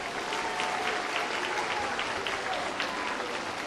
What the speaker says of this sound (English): One final round of applause for these Math Award recipients.